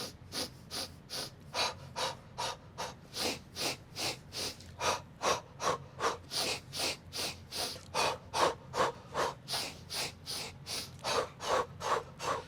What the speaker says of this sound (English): So 4 breaths is going to be 4 inhales through your nose and 4 exhales through your mouth.